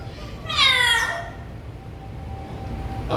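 A parrot imitating a cat's meow, one drawn-out, harmonic mew-like call lasting about half a second, heard close and clear against quiet room noise with faint tonal hum afterward.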